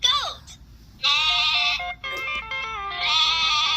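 A person's voice imitates a goat bleating, with several wavering, nasal bleats in a row, loud and close, playful like a storytelling parent.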